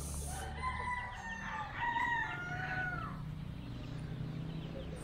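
Gamefowl roosters of the Golden Boy and Tornado breeds crow in a single long, loud call that trails off, with faint farmyard background and no talk.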